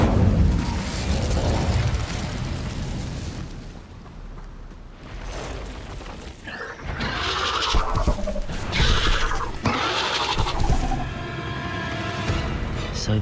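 The Incendio fire spell from Hogwarts Legacy, heard as booming, whooshing bursts of magical fire among dense battle noise, with several loud impacts and crackling blasts in the second half.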